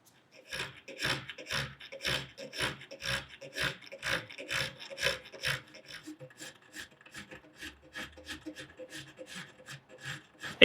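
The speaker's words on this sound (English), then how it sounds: "I could already have it done with a file." A hand file rasps back and forth on a steel hammer head, shaping the eye into an hourglass form, with steady rhythmic strokes, heavier at first and then quicker and lighter, close up and alone.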